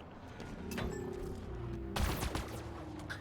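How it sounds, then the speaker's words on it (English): Vehicle-mounted weapons fire in Halo Infinite Forge, a burst of rapid gunshots followed by a second louder volley with booming impacts, short and close. "there's the already working demo for the vehicle weapons"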